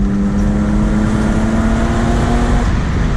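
A BMW E36 3 Series driving fast over a rough road, with a loud, steady engine drone holding one pitch and broad road and tire rumble underneath throughout.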